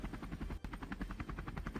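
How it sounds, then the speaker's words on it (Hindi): Helicopter circling above the Kedarnath helipad before landing, its rotor producing a loud, fast rhythmic chopping beat that pulses evenly and close throughout. "लैंड करने से पहले यह हेलीकॉप्टर हवा में ही 6 बार चक्कर लगाता है"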